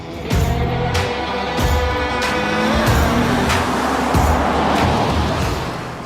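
A 2019 Mercedes-Benz GLE drives along winding roads, its engine and tire rumble loud and steady inside the car, with rhythmic bursts of road and wind noise as it leans through the curves.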